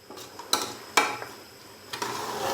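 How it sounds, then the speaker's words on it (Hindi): Beef is stirred with spices in a pot for pyaz gosht, a beef onion curry. A few distinct metal scrapes and clanks of the spoon against the pot stand out over a faint background of cooking. "अभी मैं इसको अच्छे से मिक्स करूंगा और यहाँ पर हम इसको भून लेंगे मज़ीद 4 से 5 मिनट के लिए"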